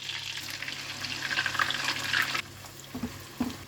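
Onion paste sizzling in melted butter in a pan, a continuous soft frying hiss with a couple of small pops near the end, close but fairly quiet.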